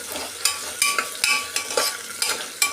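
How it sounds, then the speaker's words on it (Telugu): Carrot, potato and beans stirred and fried in a pan, with quick repeated spatula scrapes every half second or so over a light sizzle, close and without speech. "క్యారెట్ ఆలు బీన్స్ వేసుకొని మిక్స్ చేసుకున్నాం ఫ్రెండ్స్ ఫ్రై చేసుకుంటాం కొంచెంసేపు"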